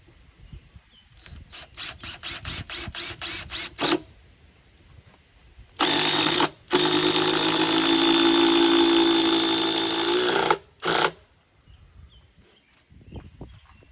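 A power driver sinks 6-inch timber lock screws into oak: a run of short rhythmic bursts, then two long loud whirring drives, close and with no talk.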